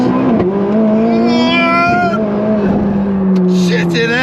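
McLaren 675LT on a road test after an earlier blown engine, heard from inside the car as a steady, loud engine drone whose pitch climbs and dips through the revs.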